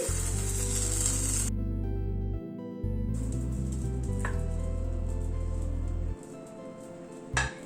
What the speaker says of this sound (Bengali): এইভাবে সবগুলোকে ভেজে নিচ্ছি।